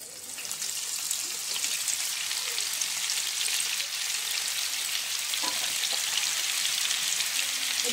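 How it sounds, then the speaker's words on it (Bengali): Cauliflower florets fry in about 50 grams of white oil in a pan over a low flame, giving a steady, dense crackling sizzle that holds at an even level throughout, with no voices. "এবারে আমি কপিগুলোকে একটু ভেজে দিচ্ছি।"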